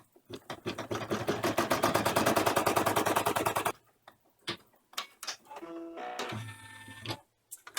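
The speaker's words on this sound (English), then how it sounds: "its next step is to sew the placement stitches for the appliques for the bumper and the front window" An embroidery machine sewing placement stitches for bus bumper and window appliques runs in a fast even rattle of needle strikes for several seconds, then stops and restarts in short bursts with clicks and a brief whirring tone.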